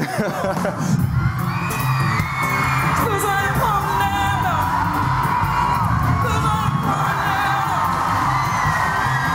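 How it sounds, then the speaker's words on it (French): Studio audience on a French television talk show cheering, whooping and shouting, a loud continuous crowd roar with yells and scattered claps running the whole time. "Tu peux t'applaudir, Eddy."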